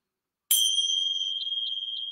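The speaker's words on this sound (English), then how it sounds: "And that is the sound of the bell to mark the beginning of the practice." A single bell rings once to open a yoga session, striking sharply and then holding a clear, ringing tone that slowly fades with a gentle wavering pulse.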